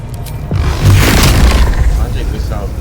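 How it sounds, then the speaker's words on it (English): A magic missile spell in Baldur's Gate 3 lands with a loud, booming impact that swells and lingers as a rumbling tail, while someone talks alongside. "Magic missile's never gonna miss."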